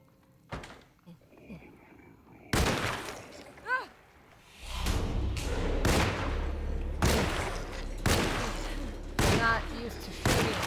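Sharp video game gunshots fired with a controller crack out in separate bursts and single shots, loud and close. Spoken voices come between and over the shots.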